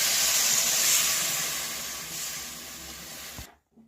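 Water poured into a hot pan of potato and green banana already fried with turmeric, giving a loud hissing steam burst that slowly fades over a few seconds and then cuts off.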